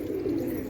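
Pigeons coo close by, one soft, rounded coo held for under a second with no talk over it.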